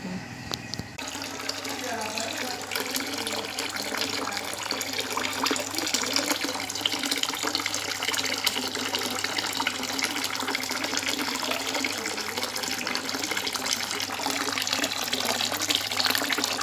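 Tap water runs steadily into a basin of soaking laundry, a continuous close splashing rush that holds without a break from start to end.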